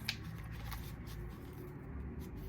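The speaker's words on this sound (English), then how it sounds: "It seemed like when I was shuffling, it was like clunky." Quiet, close shuffling of a deck of tarot cards, a soft papery riffle with a few light taps, heard alone.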